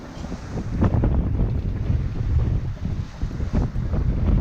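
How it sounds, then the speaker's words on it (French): Strong wind rises while a sailboat sails at sea, a constant rushing buffet of gusts against the microphone with the low churn of water and hull beneath it, no voices. "Très vite, le vent se lève et nous entamons un long bord de près de 3 jours."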